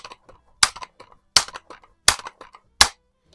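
A Daisy 822 multi-pump .22 caliber rifle fires in a garage as several sharp, isolated cracks spaced under a second apart, each a crisp snap with quieter clicks and taps between.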